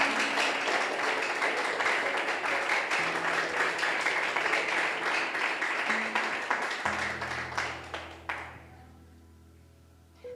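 Church congregation applauding at a worship service, dense clapping sustained for about eight seconds before fading out quickly, leaving faint low music underneath.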